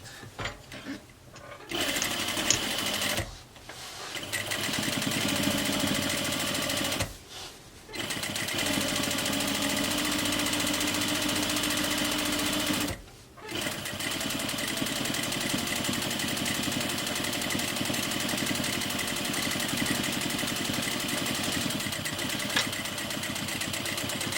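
Sewing machine stitching a strap on a reversible grocery tote bag; long runs of fast, steady mechanical whirring broken by a few brief pauses between bursts, close and loud, with no talk.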